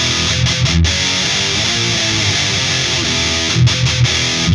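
Electric guitar played with high gain through a Fender MH-500 Metalhead amplifier, a thick, saturated distorted tone sustaining loudly and continuously, with a few brief choppy breaks near the start and end.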